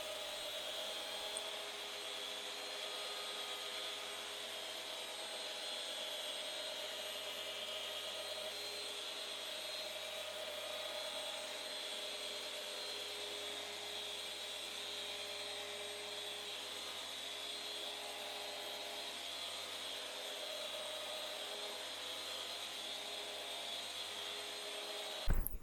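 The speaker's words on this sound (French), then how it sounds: "je bascule la ponceuse en rotation forcée et je monte un disque qui ressemble très fort à un Scotch-Brite" A rotary sander in forced-rotation mode whirs steadily and loudly throughout, a constant droning hiss of a Scotch-Brite-like abrasive disc polishing an acrylic stone countertop, with no pauses.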